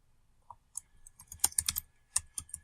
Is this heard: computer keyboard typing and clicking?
yes